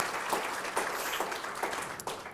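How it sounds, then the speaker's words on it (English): Audience applause at an environmental justice air panel, a steady dense clatter of many hands clapping across the whole stretch with no speech over it. "I just want to start with a round of applause for you all."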